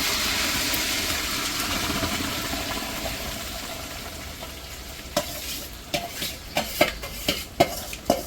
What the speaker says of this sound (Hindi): अब चालू होगी खिचड़ी की घुटाई